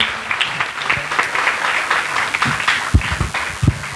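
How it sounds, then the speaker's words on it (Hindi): A church congregation at a prayer meeting claps loudly for several seconds to thank God, a dense, continuous patter of many hands with a few sharper claps standing out. "इसलिए आप उनके साथ तेज ताली से प्रभु को धन्यवाद दीजिए।"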